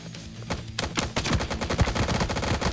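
A gun in the Guns and Draguns video game fires in a rapid burst that speeds up after a short start, the shots blurring into dense, loud automatic fire.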